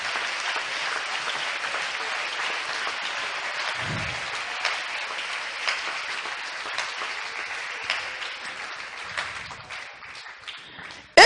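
A church congregation claps together in sustained applause, a dense even patter of many hands heard at a moderate distance, with a few louder claps standing out near the end.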